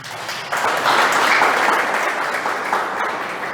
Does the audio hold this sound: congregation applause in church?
yes